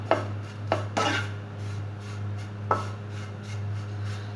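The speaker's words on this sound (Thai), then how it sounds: "ทำการคั่วไปเรื่อยๆนะครับ ใช้ไฟอ่อนๆนะครับ" Bread pieces dry-roasting in a frying pan over low heat, with a few sharp scrapes and taps of a utensil against the pan over a steady low hum, close by and with no talking.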